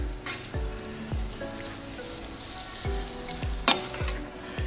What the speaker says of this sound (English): Get it all stirred up and blended together.